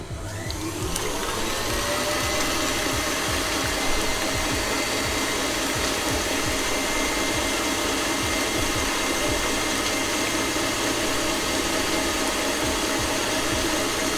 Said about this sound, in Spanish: Vamos a comenzar a batir.